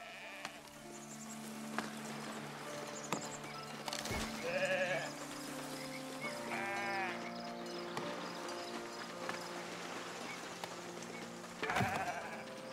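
Sheep in the Foundation video game bleat several times in short, wavering calls over a quiet game soundscape with faint hoof clip-clops and low background music.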